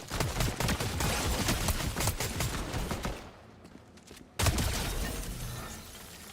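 Bursts of rapid gunfire crackle in Fortnite, dense and loud, then drop to a near-silent gap before another sharp burst resumes.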